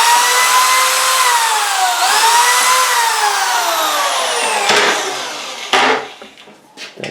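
Cordless drill driving two drywall screws through angle brackets into board during ceiling rafter insulation work: a steady, loud whirring motor with pitch dips as each screw bites, ending in short rattling handling noises.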